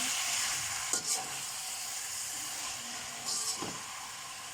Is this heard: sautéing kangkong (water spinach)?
yes